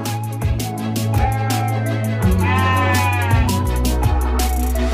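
Sagup sheep, a crossbreed of Merino, Texel and Suffolk stock on an Indonesian farm, bleat loudly and repeatedly at close range, the calls overlapping over continuous background music.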